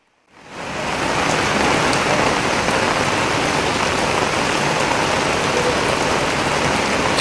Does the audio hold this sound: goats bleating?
no